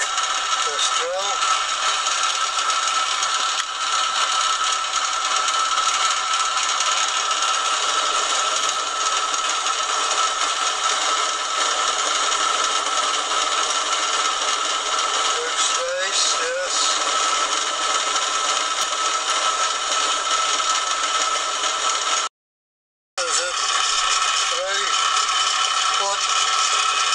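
A drill held in a lathe collet bores slowly into metal with a continuous whirring mechanical hum and faint scraping ticks, cut off by a short silence before resuming.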